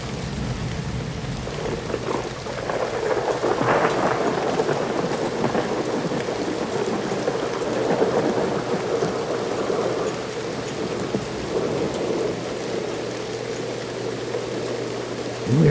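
Heavy rain pours steadily during a flash flood in Saint Clair Shores while thunder rumbles and cracks intermittently, a dense, continuous downpour with no voices.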